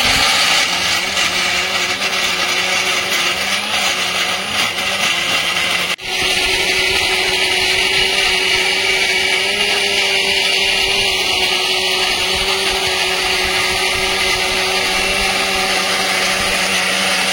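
A mixer grinder grinds spice paste: a loud, continuous high-pitched motor whine that holds steady throughout at close range, with no speech.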